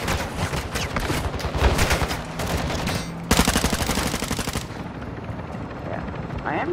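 Heavy gunfire in Call of Duty DMZ, rapid bursts of automatic shots rattling loud and close, with a brief pause before another dense burst, then quieter distant firing.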